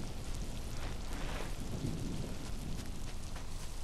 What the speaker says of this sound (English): Thunder scared me, to be honest.